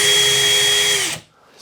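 A power drill runs close and loud with a steady high whine for about a second, then slows with a dropping pitch and stops, leaving near silence.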